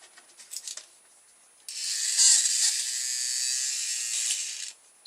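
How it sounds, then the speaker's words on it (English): A nasal hair trimmer switches on and buzzes with a steady, high-pitched whine for about three seconds, close and alone, then cuts off after some faint handling clicks. "Yes, nasal hair trimmer."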